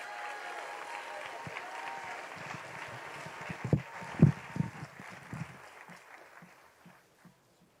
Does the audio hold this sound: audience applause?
yes